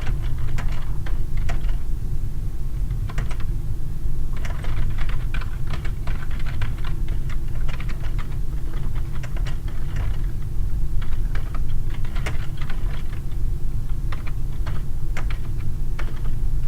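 Steady, fairly loud clicking of a computer keyboard as code is typed, with irregular bursts of keystrokes throughout over a constant low background hum.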